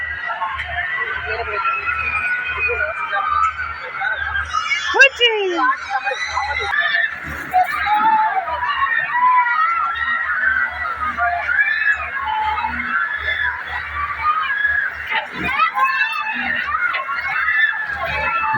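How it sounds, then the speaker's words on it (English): A crowd at a Dussehra exhibition shouts and screams in a continuous, busy roar of voices, with sharp shrieks rising now and then above the din. "People are shouting and screaming like anything."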